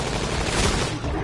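Grenade blasts in a video game, a dense, loud roaring burst filling the brief moment with no clear pauses.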